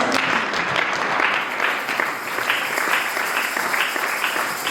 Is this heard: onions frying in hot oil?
no